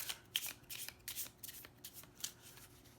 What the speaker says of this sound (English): we've shuffled the deck